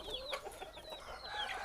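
Chickens cluck and chatter in the background of a noisy outdoor setting, with soft overlapping bird calls at a steady moderate level and no clear voices.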